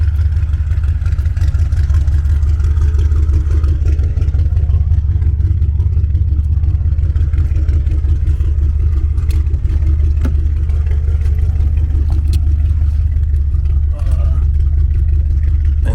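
A car engine runs loudly and close, a deep steady rumble with slight rises in revs, no voices.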